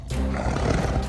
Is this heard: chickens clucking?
no